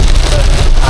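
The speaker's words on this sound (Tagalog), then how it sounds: "talagang bagyo na talaga to." Heavy storm rain and gusting wind at a seaside campsite at Malagundi Point in Lobo, Batangas, a loud, steady broadband roar with wind buffeting the microphone throughout.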